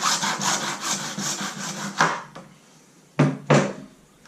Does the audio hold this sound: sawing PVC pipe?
yes